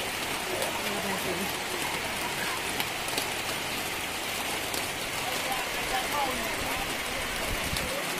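Steady rain hisses down at an elephant camp coffee shop in Chiang Mai, a dense, even wash of drops with no break from start to finish.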